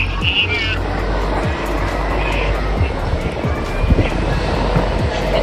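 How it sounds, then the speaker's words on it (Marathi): Airplane departing at Mumbai International Airport, a broad distant jet roar heard over steady outdoor noise with scattered low thumps throughout. "एक डिपार्चर दाखवतो तुम्हाला."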